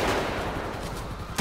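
GTA 5 gunfire during a street robbery: a steady wash of game action noise ends in a sudden loud shot blast at the very end.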